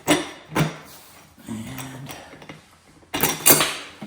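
Metal bolts lined up and pushed into place while fitting the upholstery board on an aluminum Elite Studio Reformer, a few sharp metallic clacks and taps with a short scraping slide between them, close and fairly quiet.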